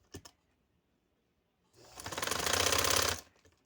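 A sewing machine stitching lace onto a neckline runs as a close, rapid mechanical chatter for about a second and a half. A couple of short clicks come before it, and no one speaks.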